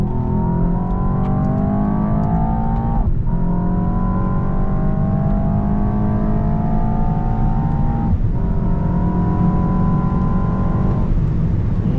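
A 2025 Mercedes S63 AMG with an 802 hp V8 hybrid drivetrain accelerates hard on the German Autobahn, its engine droning loudly and continuously with rising pitch through each gear, broken by brief dips at two upshifts.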